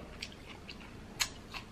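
Someone chews raw bell pepper up close during an eating challenge, with faint wet crunches and a few sharper bites over a low hiss and no speech.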